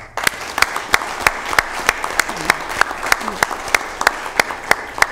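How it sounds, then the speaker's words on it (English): Applause for award recipients at a county Board of Supervisors meeting: scattered audience clapping under a regular series of sharp, evenly spaced claps close to the microphone, with a faint voice underneath. "a good round of applause?"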